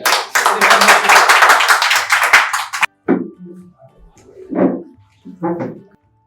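Audience at an open mic comedy night bursting into dense applause for about three seconds, then a few scattered claps and some quieter sounds trailing off.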